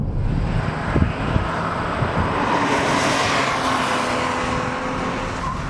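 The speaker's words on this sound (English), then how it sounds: "Okay, we're out here on the track in our angry little friend, the Audi TT RS" A 2013 Audi TT RS sports car lapping a race track, its engine a continuous loud roar with wind rush, held steady for several seconds with no talking.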